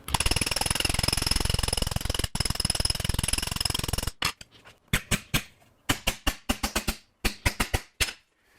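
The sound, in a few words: hammering metal to stretch it over a hammer form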